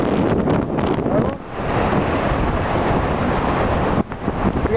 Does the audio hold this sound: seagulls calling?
no